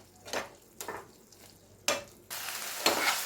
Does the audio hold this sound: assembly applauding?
no